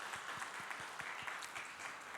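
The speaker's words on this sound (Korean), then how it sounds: "우리 박수를 한번 해주시면 좋겠습니다." A church congregation claps together after a deacon is introduced, a brief, steady burst of applause heard from a distance.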